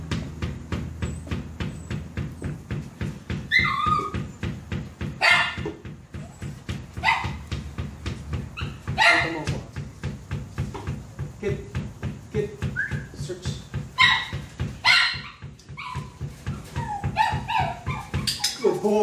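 A detection dog in training on a box search barks repeatedly, with a steady run of close, loud barks and some yips and whimpers over about twenty seconds, while a handler's voice cuts in now and then.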